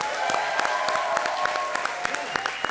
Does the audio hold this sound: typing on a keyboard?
no